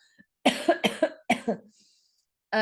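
A quick series of coughs, three or four dry bursts in a row, fairly close and moderately loud, followed by another cough starting at the end.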